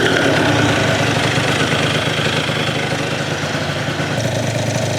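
A Polini Evolution 70cc kit engine idles after a fresh start, giving a steady, loud, close two-stroke drone with no pauses and no voices.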